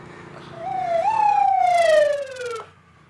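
An ambulance siren wails loudly in a single rising-then-falling sweep, cutting off abruptly after a couple of seconds.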